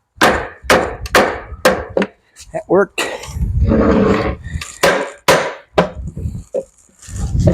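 A hammer strikes the wooden frame of a salvaged antique chair being knocked apart, giving a series of sharp, close wooden whacks in an irregular rhythm, with a brief spoken remark between blows.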